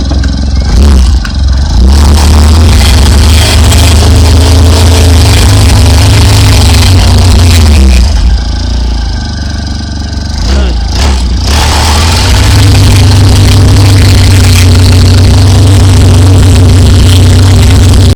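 A petrol-powered ground-clearing machine engine drones loudly and continuously, with a brief dip in pitch and load midway before resuming its steady rough roar, with clattering and scraping against the ground.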